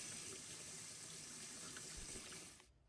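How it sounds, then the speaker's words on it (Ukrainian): Running tap water rinses apricots in a kitchen sink after a soda-solution soak, a steady close hiss of flowing water that stops abruptly near the end. "витягаємо їх із цього содового розчину та промиваємо під проточною водою"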